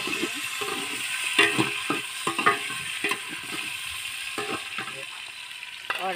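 Tomatoes and green chillies frying in a pan, a continuous close sizzle broken by scattered scraping and stirring clatters, with no talk.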